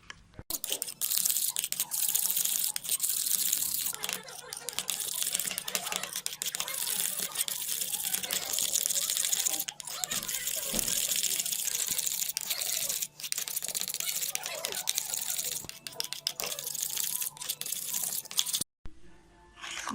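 Coffee and sugar are beaten by hand in a cup, a steady stream of dense scraping, crunching strokes that runs almost without pause and ends in a brief stop.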